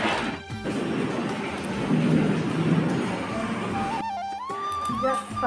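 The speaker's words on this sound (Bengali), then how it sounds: "প্রচুর বৃষ্টি, বিদ্যুৎ চমকাচ্ছে, বাজ পড়ছে, কাল বৈশাখী" A Kalbaishakhi thunderstorm with heavy rain pours steadily and loudly throughout, thunder rumbling and crashing within the downpour, with a brief tonal sound near the end.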